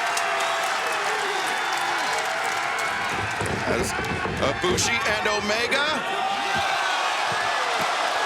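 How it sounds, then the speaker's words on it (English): Live wrestling crowd in a Seattle arena applauds and cheers in a rolling wave that swells midway, heard beneath a commentator speaking throughout. "They are soaking in this live crowd here in Seattle."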